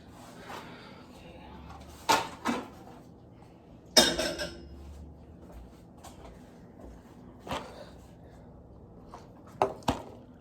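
Kitchen cabinets and drawers under an island counter bang open and shut in several sharp wooden knocks and rattles, spaced apart, with quiet room noise between them.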